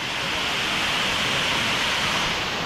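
Pradhanpat waterfall in Deogarh, Odisha, a dense, steady roar of falling water heard up close, loud and unbroken with no voices.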